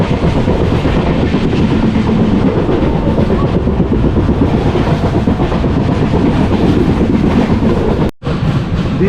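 Repalle Express passenger train running on the rails, loud continuous rumble and rhythmic clatter of wheels heard from on board, steady throughout with a brief dropout near the end.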